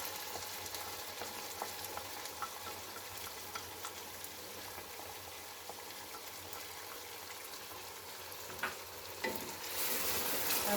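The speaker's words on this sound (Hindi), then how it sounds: "अब इसे दही के साथ थोड़ा सा भूनेंगे" Beef nihari masala fries with yogurt in a pot, a steady close sizzle with bubbling and occasional stirring scrapes, growing slightly louder near the end.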